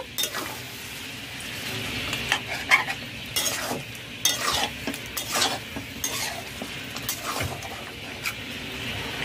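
Chicken chaap masala is stirred in a pan, with repeated metallic scrapes and clinks of a spatula against the pan over a soft, constant sizzle of frying oil.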